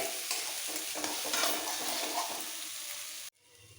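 Spinach and mixed-vegetable khichuri is stirred as it fries, with a close, loud sizzle and the wet churning of a spoon through the pot. It cuts off abruptly near the end, and no voices are heard.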